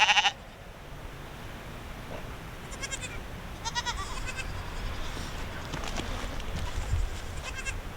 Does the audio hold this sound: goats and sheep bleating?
yes